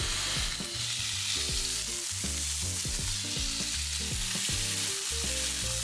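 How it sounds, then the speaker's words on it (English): Steady loud sizzling of beef burgers frying in a pan, a continuous hiss with no talking; a rhythmic musical pattern runs underneath. "We're letting these burgers sizzle away for 2 minutes per side"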